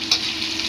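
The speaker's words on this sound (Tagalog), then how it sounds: "Natin halo-halo-haloin." Carrots and tomato sizzle and scrape as they are stirred in a frying pan, a brief close burst of steady frying hiss.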